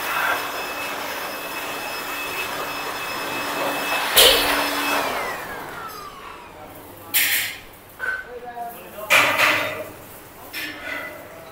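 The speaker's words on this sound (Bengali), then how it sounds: "গাড়িতে হাওয়া দেওয়া হচ্ছে।" A steady hissing whoosh of air runs for several seconds, then gives way to bursts of clanking, tapping and short knocks nearby.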